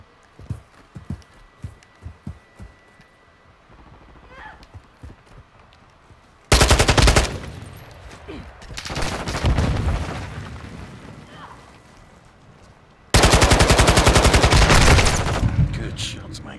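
Automatic weapon fire in Call of Duty: Modern Warfare II, two loud, close bursts of rapid gunfire over quieter game ambience, with a voice speaking briefly between them.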